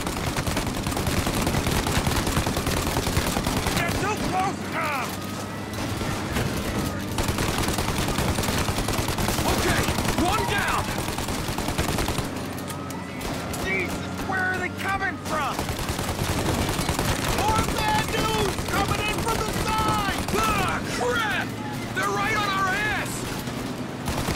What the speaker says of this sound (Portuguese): Vocês viram, os tiros pegaram com muita precisão